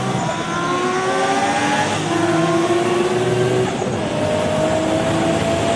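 Engines roar loudly and continuously in a street race between a car and a motorbike, with rising revs and gear-shift steps as they accelerate hard together, heard close up without talking.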